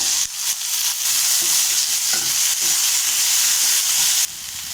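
Four large onions sautéing in a pan for mutton gravy, a steady loud sizzle with scraping stirs and utensil knocks throughout, no voices.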